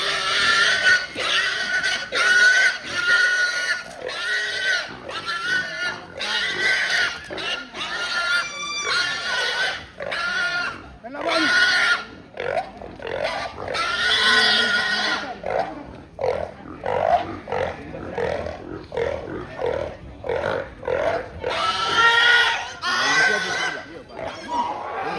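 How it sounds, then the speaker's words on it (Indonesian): A pig squeals loudly and repeatedly in harsh, frantic bursts before slaughter at a Toraja funeral ceremony, close and continuous, with people talking over and around it. "Jadi babi dulu dipotong."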